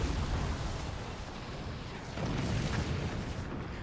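Howitzers firing in the strategy game Forts give a dense, continuous rumble of booming blasts, loud and close, with a heavier swell of explosions toward the end.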